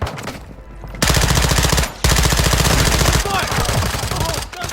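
Rapid automatic gunfire in a shooter video game, dense loud bursts broken by a brief gap, with a voice shouting over the later shots.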